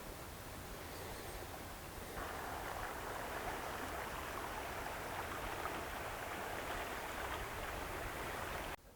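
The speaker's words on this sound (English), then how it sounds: "We got a bigger creek that kind of winds throughout here, and it curves into the woods here." A creek flows through brushy woods as a faint, steady, broadband rush of water that continues evenly throughout, with no voices.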